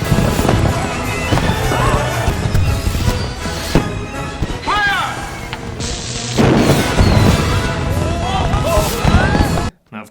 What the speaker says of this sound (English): which of course ends up setting off the fireworks